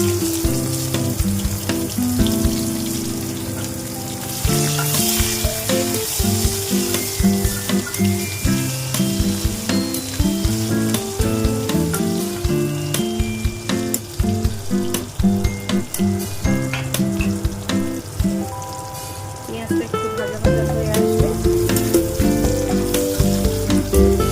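Sliced onions sizzling in hot oil with whole cumin, bay leaf and dried red chilli, a loud continuous frying hiss with occasional stirring scrapes, no talk.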